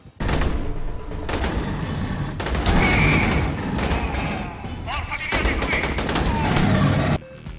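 Weapons in Aliens: Colonial Marines fire in loud, dense automatic bursts broken by brief pauses, with booming impacts and mechanical effects layered in, and speech mixed under the shooting.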